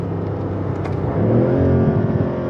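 A brand-new BMW engine revs and accelerates hard nearby, a steady loud roar that swells and climbs in pitch partway through, with a light exhaust crackle on top.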